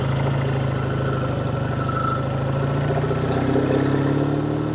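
A 1948 Triumph T100 Tiger 500cc (498cc) motorcycle engine runs close up with a steady, even throb, like a near idle, holding at the same level throughout.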